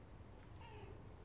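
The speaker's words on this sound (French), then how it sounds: "j'ai mon petit chat avec moi." A pet cat lets out a single short, soft meow indoors, faint against low room noise, with no talking.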